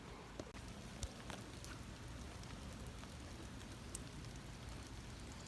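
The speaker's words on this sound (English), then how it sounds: "So yeah, it's raining" Rain falls across a park as a soft, steady hiss, quiet and even, with occasional sharper drop taps standing out.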